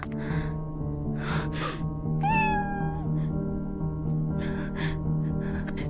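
A cat gives a single clear, rising meow amid a steady indoor background hum, close and distinct, with no talking.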